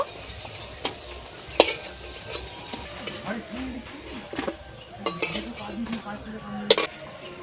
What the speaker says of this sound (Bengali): এই বড়াগুলো ভাজা হয়ে গেছে, তুলে নেব।